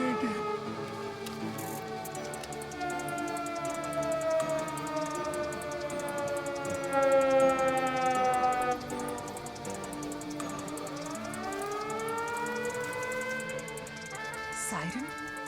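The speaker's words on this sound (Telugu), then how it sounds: "సైరన్?" A siren wailing during an action movie scene, with long rising and falling tones sweeping steadily at moderate loudness.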